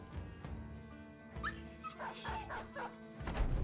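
Dog sounds from the video game Battle Brothers: a few short yips and a whimpering whine, moderately loud over a steady background music bed.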